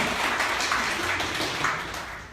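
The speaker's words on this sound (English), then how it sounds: "Round of applause, guys, awesome." An audience at a rhythm workshop claps briefly after a vocal percussion exercise, a steady burst of moderate applause that tapers off.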